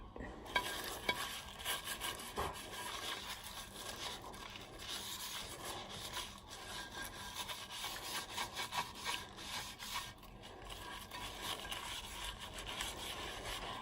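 Hand rubbing and scrubbing over a surface with a cleaning product, a steady continuous friction sound with gentle rhythmic strokes, fairly quiet and close, no talking.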